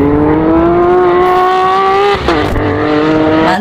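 Lamborghini supercar engine revving effect: a loud, steady, tonal engine whine climbing slowly in pitch, dipping abruptly at a shift before resuming, with no voices.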